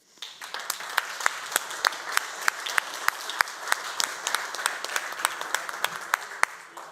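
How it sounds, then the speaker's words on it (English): Applause from a workshop audience cheering for a table in a contest, dense steady clapping with sharp individual claps standing out, sustained for several seconds. "I would like to have applause for table number 1."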